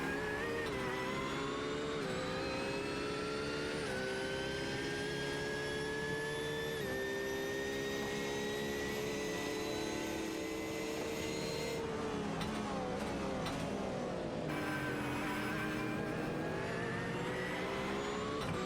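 A GT3 race car engine howls onboard at Sebring in a racing video game, holding a loud, steady high-pitched drone with rising revs, then a sharp drop and quick shifts as it brakes and accelerates again.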